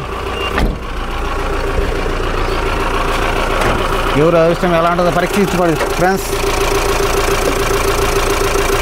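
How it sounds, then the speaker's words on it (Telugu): The 1.7-litre engine of a 2023 Mahindra Bolero Maxx Pickup idles with a steady mid-pitched drone, and a repeating electronic beep pattern sounds nearby while someone talks over it. "బండి స్టార్టింగ్ సింగిల్ సెల్ఫ్లో స్టార్ట్ అవుతుంది"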